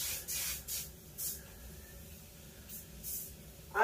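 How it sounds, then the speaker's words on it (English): Short hissing spritzes from a spray bottle, a few pumps with pauses between, close and fairly quiet. "So spray this."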